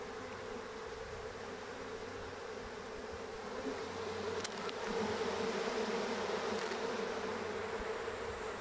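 Dense, steady buzzing of many bees swarming close by at a hive during an inspection, a continuous drone that swells slightly toward the end, with no voices.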